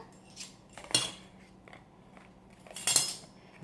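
A metal measuring spoon clinks against a bowl while a teaspoon of baking soda is measured out for banana bread, giving two sharp bright clinks and some softer taps in a quiet room.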